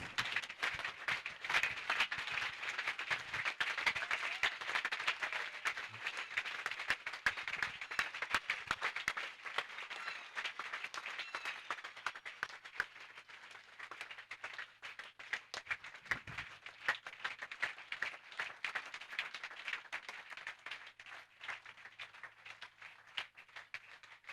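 Crowd applause and clapping at an open-air salvation, healing and deliverance crusade in Bafoussam, steady and dense for the whole stretch, moderately distant, with no talk over it.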